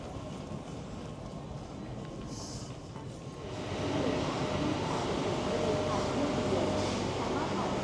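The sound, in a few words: train in Thailand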